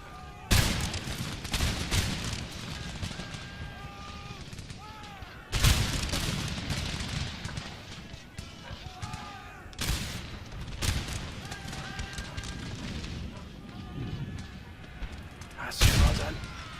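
Musket volleys crack out in the Napoleonic-era strategy game Empire: Total War, with several loud broadband bursts at irregular intervals over a continuous din of distant battle, booms and scattered shots.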